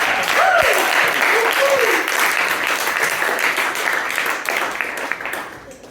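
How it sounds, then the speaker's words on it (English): Audience applause at a live music show in Ramsgate, a dense burst of clapping and cheering that rises at once, holds steady, then tapers off, with a host's voice calling out over the crowd. "Another massive round of applause for all of our acts."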